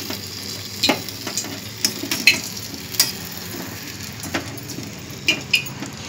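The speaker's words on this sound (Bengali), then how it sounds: "এরপর আমি একটা চামচ নিয়ে আর মিশিয়ে দিচ্ছি রসে এভাবে" A spoon stirs balushahi sweets through sugar syrup, giving light scattered clinks and soft wet taps against the pan over a faint background hiss, close by and gentle.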